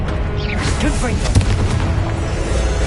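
Confringo explosion spells go off in the game Hogwarts Legacy, with whooshing magic and a sharp boom near the middle over steady rumbling battle noise, while a voice shouts over it.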